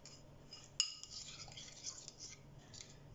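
A spoon stirs a seasoning mixture for roast leg and shoulder of lamb in a bowl, giving one sharp clink and then faint, soft scraping and tapping, quiet and close with no talking.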